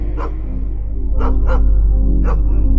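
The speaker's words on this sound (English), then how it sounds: "The sounds of some wild dogs were coming from far away." Cartoon sound effect of wild dogs barking at night in the distance: a single yelp, then three short bursts of barking over a low droning background, with no voices.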